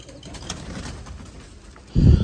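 A breeder pair of Sialkoti pigeons from Ustad Akhlaq Ahmad Khan's line murmurs quietly, then breaks into a louder, close, throaty coo near the end.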